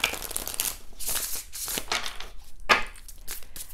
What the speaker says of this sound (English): I like to give them a good shuffle.